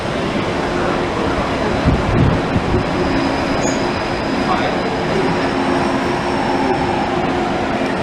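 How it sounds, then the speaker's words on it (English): The Disney Orange monorail runs toward Downtown Disney, a loud, steady rumbling roar of the moving train heard from on board, with a faint high tone and occasional bumps. "Monorail Orange will be taking you on a round trip with one stop in downtown Disney"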